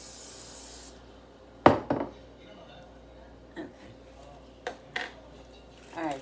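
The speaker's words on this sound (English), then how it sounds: "I want to use this spray, but my hands are gonna get dirty anyway now." A cooking spray can hisses once in a short, bright burst at the start. It is followed by quiet kitchen clatter and several sharp knocks of food prep, and the space between them is fairly hushed.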